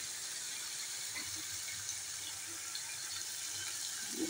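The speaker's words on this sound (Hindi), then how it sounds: "अब आलू गलेगा इसलिए अब मैं पानी ऐड करके इसमें" Water pours steadily into a pot of potato and beef curry, a soft continuous splashing trickle at low level with no talk over it.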